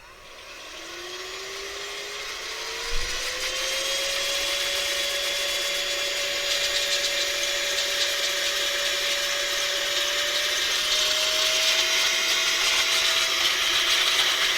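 An air blower dries Sega Mega Drive controller parts, producing a loud, steady rushing whoosh with a whine that climbs in pitch early on and holds for about fifteen seconds, close by with no talking.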